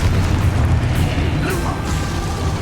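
Expulso blasting spell going off in Hogwarts Legacy, a loud booming burst over dense, continuous game noise, with another sharp hit around the middle of the sequence.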